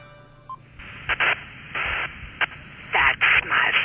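A mobile phone rings inside the Wii game I Wanna Play Calling, sounding as a string of loud, repeated electronic tone bursts in uneven pulses, with a brief lower tone near the start.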